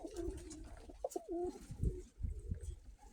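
Soft, low coos from a white-tailed pigeon repeat close by, a few throaty rolling calls with short pauses between them.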